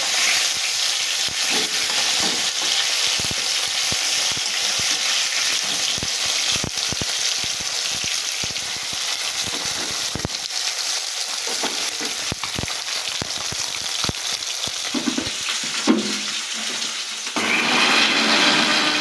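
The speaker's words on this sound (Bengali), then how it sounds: "এক পিঠ আমার ভালো করে ভাজা হয়ে গেছে, এবার আমি উল্টে অন্য পিঠ ভালো করে ভেজে নেব।" Bhola fish frying in hot oil, a loud continuous crackling sizzle with scattered pops and spatters, growing briefly fuller and louder near the end as the pieces are turned.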